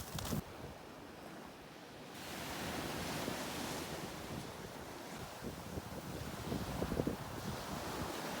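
Black Sea waves washing onto the beach at Odessa, a broad steady surf roar with rushing swells building and breaking, mixed with gusty wind buffeting the microphone.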